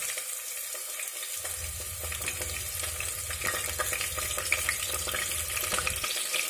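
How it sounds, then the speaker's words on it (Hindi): Green chilies hit hot mustard oil in a pan for chicken curry, setting off a steady crackling sizzle under a low rumble that lasts several seconds before cutting off, with no talking. "तो तेल गर्म हो चुका है, अब डालेंगे हरी मिर्ची,"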